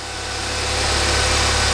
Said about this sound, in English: Okay, so the engine started.